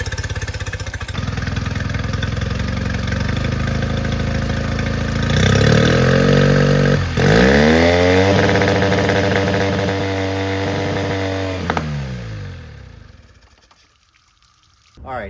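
A Yamaha engine with a carburetor fuel problem idles roughly, loud and close, its speed surging and sagging unevenly, briefly blipping higher before stumbling and dying away near the end.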